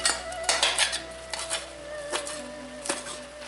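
A knife chops through a tight bundle of fresh coriander on a board for pork larb. Several quick, close, uneven taps and knocks sound over a faint steady kitchen hum.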